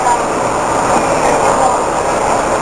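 Train at Checheng station on the Jiji line in Nantou, Taiwan, giving a loud continuous rumble and rattle close by that masks faint background voices.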